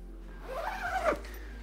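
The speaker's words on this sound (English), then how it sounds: "And then I'll close the zipper." A zipper is drawn shut along the flap over a sleeping pad on a double hammock, one quick close rasp of about a second rising and then stopping, against quiet surroundings.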